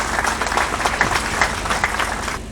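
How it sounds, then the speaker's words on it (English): Audience at the African Continental Free Trade Area launch in Durban applauding visiting trade ministers, a full round of clapping from a large hall that fades out at the end. "let's give them a round of applause for being here"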